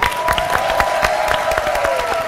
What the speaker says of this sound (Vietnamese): Chúng ta dành một tràng pháo tay